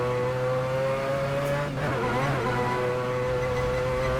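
A naturally aspirated rotary-engine race car in the racing game Assetto Corsa holds a loud, buzzing high-revving drone, with a quick dip and rise mid-way, heard alone with no talking.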